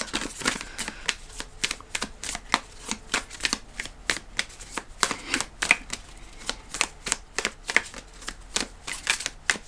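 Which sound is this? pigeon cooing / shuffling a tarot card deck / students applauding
shuffling a tarot card deck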